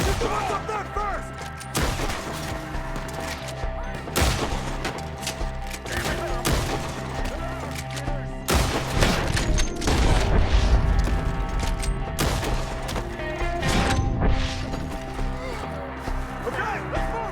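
A Red Dead Redemption 2 shootout brings bursts of rifle and revolver fire, booming shots cracking out one after another over roughly seventeen seconds, with voices shouting over the gunfight.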